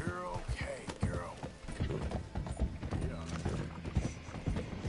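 Horse hooves clip-clop in Red Dead Redemption 2, a fairly quiet run of uneven thuds mixed with small mechanical clicks and tones, with a person talking over part of it.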